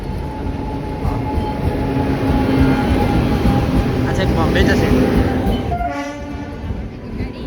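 An orange-coloured train bound for Bombay rumbles past close by, its horn sounding in steady tones, with clattering wheels and people talking over the noise.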